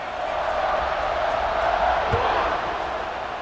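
A home crowd roars steadily at a Michigan vs Baylor college football game, a dense wash of cheering that fills the whole moment without letting up.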